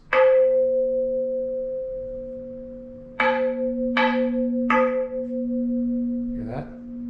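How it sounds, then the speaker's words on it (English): A forged metal wheel with no cracks rings like a bell when struck, once and then three more times in quick succession, each tone sustaining clearly with a long bright decay. "they should ring like a bell if there's no cracks"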